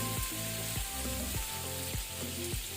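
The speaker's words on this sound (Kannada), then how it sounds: "ಇದನ್ನು ಶಾಲೋ ಫ್ರೈ ಮಾಡುವ, ಸ್ವಲ್ಪ ಕಲರ್ ಚೇಂಜ್ ಆಗಲಿ." Malai paneer shallow frying in a pan over low to medium flame: a continuous, close hissing sizzle with soft bubbling and occasional spatter, steady throughout with no talking.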